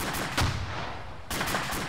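Gunfire in the military shooter Arma 2 during a squad firefight: a dense burst of loud shots crackles through the first second, drops off briefly, then picks up again near the end, with no talking.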